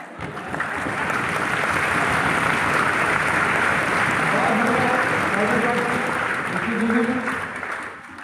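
An audience at a national poetry gathering (kavi sammelan) at Vigyan Bhawan applauds, steady dense clapping rising and holding for several seconds, with a voice speaking over the later part.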